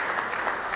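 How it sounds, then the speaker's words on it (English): Audience at a Baptist Academy alumni master class applauding together in a dense, steady wash of clapping with no pauses. "Let's clap for ourselves"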